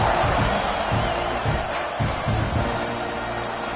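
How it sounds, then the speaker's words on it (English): A stadium crowd cheers at a college football game, a steady dense roar of many voices rising and falling together. "You think this crowd's going to get loud when their defense comes on the field?"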